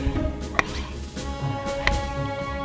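A knife slicing pizza in a pizza shop video game, two sharp cutting strokes about a second apart, faint and close, over quiet background hum with no talking.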